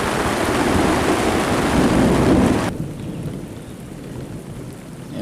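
Heavy rain drums down at a rendezvous camp in Raton, New Mexico, while thunder rumbles loudly, then the roar drops abruptly to a softer, steady downpour.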